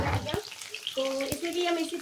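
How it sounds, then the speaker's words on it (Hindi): Arbi (taro) leaves frying in oil, a close crackling sizzle broken by sharp clinks of a utensil, with a voice speaking partly over it. "तो इसे भी हम इसी तरीके से फ्राई कर लेंगे"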